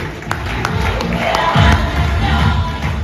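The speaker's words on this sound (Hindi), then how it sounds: "जोरदार तालियां का दीजिए।" Crowd at a business success celebration in Jind cheers and claps loudly, a dense, steady roar of voices and applause swelling slightly midway through.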